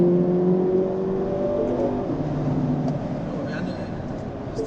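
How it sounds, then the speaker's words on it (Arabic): A 2019 Mini Cooper S engine revs, its pitch rising and dropping as the automatic dual-clutch gearbox shifts quickly while accelerating, heard from inside the cabin with a steady road drone. "شوفوا اسمعوا صوت الجير، يبين وياكم صوت التبديله"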